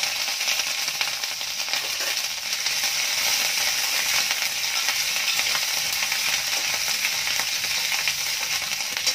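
Ajwain seeds and chopped ginger hit hot oil in a pan, giving a steady, close, bright sizzle with crackling spatter that holds evenly throughout, with no voices.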